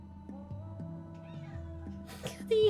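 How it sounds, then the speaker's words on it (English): A house cat gives a loud, drawn-out meow near the end, heard over steady stepped background music from a computer game. "My cat is screaming."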